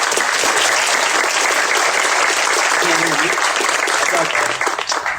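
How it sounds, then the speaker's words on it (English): A large audience gives a sustained round of applause to welcome a speaker at a mental health talk, dense, steady clapping that fades slightly toward the end. "give her a round of applause"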